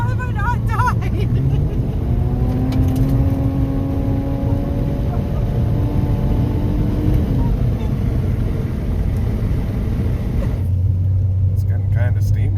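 A car with a major exhaust leak rumbles loudly and steadily from inside the cabin, a deep continuous drone with shifting engine tones as it drives, and voices are heard over it.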